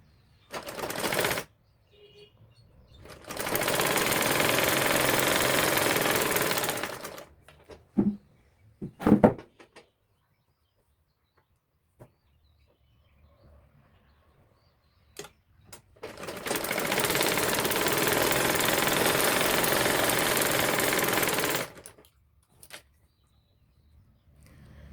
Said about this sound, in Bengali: ইনার কাপড়টা ওপরে বসিয়ে মাথাটায় একটু 6 ইঞ্চি রেখে সেলাই করে নিব।